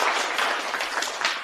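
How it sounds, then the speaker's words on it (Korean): Audience applause fills a hall at a finance conference, a dense, steady crackle of many hands clapping at once, with a faint voice underneath. "박수 감사합니다"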